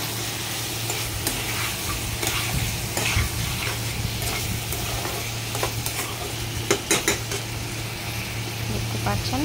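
Sponge gourd curry fries and is stirred in a pan, a constant dense sizzle broken by scraping spoon strokes and small clinks against a low steady hum.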